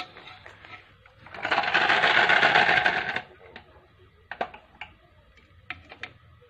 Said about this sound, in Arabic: هنجيب بقى المضرب بتاعنا الكهربائي دوت